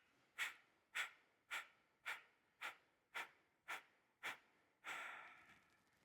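Pranayama breath pumps, eight sharp forceful exhales through the nose in an even rhythm about half a second apart, then a longer breath. Close and clear, no other sound.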